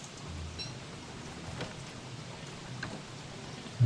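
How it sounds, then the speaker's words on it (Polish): Frog rain pattering down in the survival video game Don't Starve, a soft steady wash of falling drops with a few faint splats, quiet and continuous throughout with no talking. "jeszcze deszcz żab"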